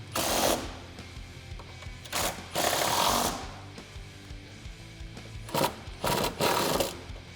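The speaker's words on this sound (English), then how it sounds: "I am going to use an 18mm socket and my impact wrench and tighten that up into the welded nut." An impact wrench with an 18mm socket drives a bolt into a welded nut while a running board is mounted on a Jeep Wrangler JL 4-door, in several loud hammering bursts with short pauses between them.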